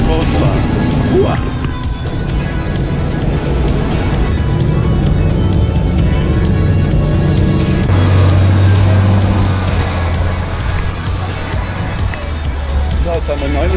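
A car drives along a street in Miami, a loud continuous engine and road rumble with tire noise filling the whole stretch, while people talk inside.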